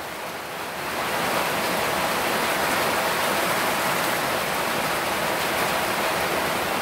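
Steady outdoor rain falls as a dense, even hiss that swells after the first second and then holds at a constant loud level, with no voices.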